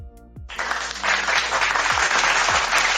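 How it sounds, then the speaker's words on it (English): Applause sound effect dropped into a podcast episode with AKMU and IU: a burst of clapping starts abruptly, stays loud and steady, and carries on alone without talk. "applause, man. Applause."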